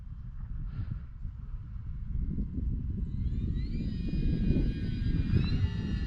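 An E-Flite RV-7 RC sport plane flies overhead, its thin electric motor whine rising and growing louder over a rumble of wind and ground noise.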